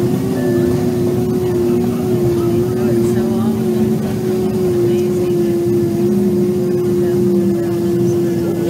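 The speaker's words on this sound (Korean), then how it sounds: "보통의 비행기 착륙 장면입니다." Airliner landing and slowing on the runway with engines in reverse thrust, a steady loud droning roar with a sustained low engine tone and a constant rumbling wash.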